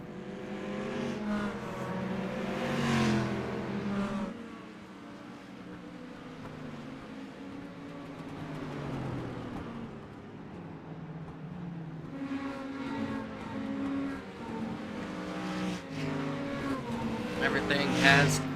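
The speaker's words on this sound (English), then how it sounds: "We still have 19 cars out on track at the moment." Stock cars and mini stocks from a demolition race circle Martinsville's short track, engines droning and revving steadily throughout, rising and falling as they pass, with a commentator talking over the racket.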